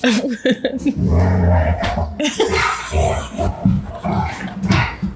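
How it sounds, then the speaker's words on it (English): A pet dog having a tantrum, throwing out repeated growly, huffing vocal bursts and scuffling sounds at close range, continuous and agitated throughout. "Our dog is having a tantrum."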